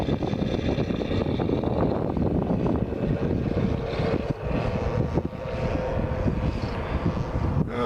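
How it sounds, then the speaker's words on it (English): A scale model airplane's propeller engine drones steadily at close range as the plane rolls down the runway for takeoff, a continuous buzzing roar with a slight rise and fall. "We'll follow the plane as it goes down the runway."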